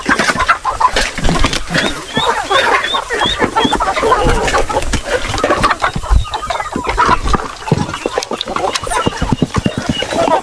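Heritage chickens clucking and calling at a farm feeding area, a busy flock of overlapping clucks close by, with a voice talking over them.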